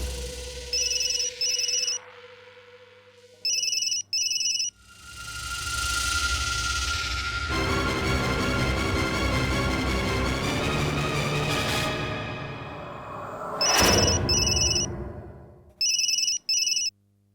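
A phone rings in repeated electronic trills, loud and close, broken by a long stretch of sustained tones before the ringing resumes.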